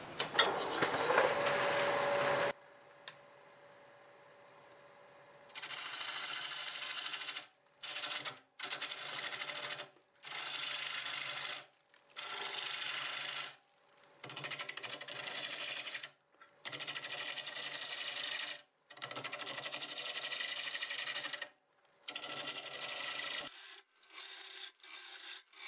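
A wood lathe at about 760 RPM turns a flipped silver maple firewood blank with a half-inch bowl gouge, giving loud bursts of scraping, rasping cuts that start and stop repeatedly, separated by short quiet gaps.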